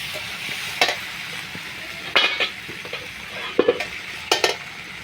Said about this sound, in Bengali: ঢাকনা খুলে আলুগুলো অল্প নেড়ে